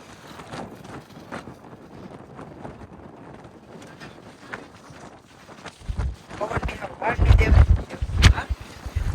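Strong wind at a seaside port buffets the microphone in gusty roars that swell louder toward the end, while people talk nearby and water washes in the background.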